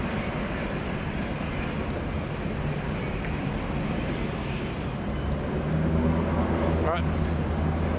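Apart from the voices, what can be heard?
Dash 8 Q200 aircraft taking off at Sydney Airport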